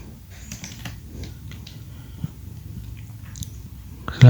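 Quiet keys click on a computer keyboard in a short, irregular run of taps over low background noise, ending with a louder knock.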